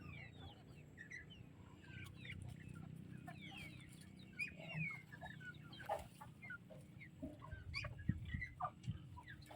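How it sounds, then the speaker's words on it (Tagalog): Chickens, ducks and geese cluck and chatter on a farm over a steady low rumble, with scattered bird calls rising and falling throughout. "marami silang alagang manok"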